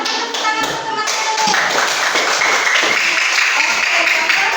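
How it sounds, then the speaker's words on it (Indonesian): Classmates applaud together in a classroom, a burst of many hands clapping that builds and holds for several seconds. "Silakan tepuk tangan untuk teman-teman."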